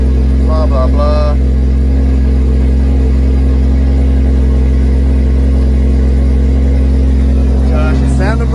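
A Nissan RB20DET engine idling loudly on its first start, a steady deep drone held throughout with a brief higher-pitched rise near the start and end.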